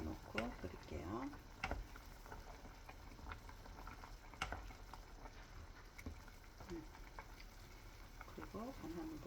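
Beef seaweed soup (miyeokguk) bubbles steadily in a pot, a soft continuous boil with occasional louder pops and faint clinks nearby.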